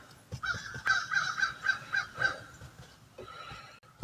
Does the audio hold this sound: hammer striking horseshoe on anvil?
no